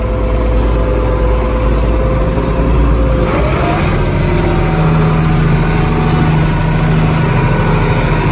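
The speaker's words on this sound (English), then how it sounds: "You really hear the turbos giving her" A big turbocharged diesel tractor engine runs loud and steady in a field with a deep rumble, a faint turbo whine rising briefly partway through as it works harder.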